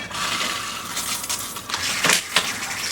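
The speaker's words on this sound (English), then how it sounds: "now when you turn the water on," Water gushing from a hand-held 2-in-1 shower head, a steady close hiss with a few brief splashy spikes, heard alone.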